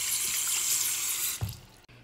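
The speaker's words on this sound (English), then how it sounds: "Wash my hands," Hands are washed under a running tap, a steady hiss of flowing water into a sink that stops abruptly after a brief splash, with no talk.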